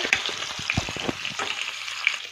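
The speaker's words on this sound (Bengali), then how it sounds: "তেলটা গরম হয়ে গেছে মাথাগুলো ভেজে নেব" Rohu fish heads fry in hot oil with a steady, fairly loud sizzle and crackle, and occasional pops and utensil scrapes on top, with no voices.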